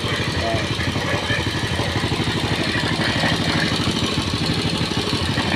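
An old, worn-out motorcycle engine runs steadily at idle during an oil pump check, its low mechanical chugging loud and continuous throughout.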